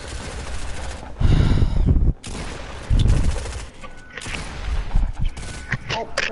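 Gunfire from a Fortnite squads match, with heavy bursts of automatic fire in a couple of loud clusters followed by scattered shots, mixed with game sounds and player chatter.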